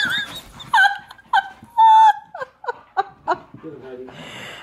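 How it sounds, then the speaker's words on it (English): Pet dogs at home give short yips, whimpers and a few barks in bursts, close and fairly loud, with a person laughing and talking around them. "And then Mike barked"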